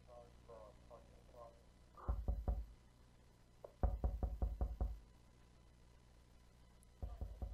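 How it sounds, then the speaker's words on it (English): Police pound heavily on a door in the game September 1999: three loud clusters of rapid, booming knocks, close and insistent, separated by quiet stretches with faint murmuring voices in the background. "so the police are here and they're pounding on the door"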